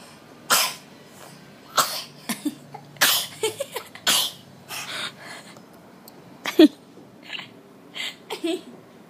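A child coughs repeatedly in short, irregular bursts, with small vocal sounds and breaths in between, close to the listener.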